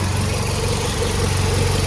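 A 2008 Mazdaspeed 3 fitted with a replacement 2.5L block idles steadily up close, a dense, even rumble with a low throb and no voices over it.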